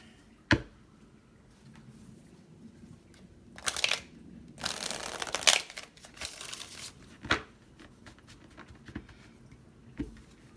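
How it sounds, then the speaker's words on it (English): Tarot cards are shuffled in scattered bursts, with riffling rasps and soft slaps, a louder flurry in the middle, and isolated taps around it in a quiet room. "So one more shuffle."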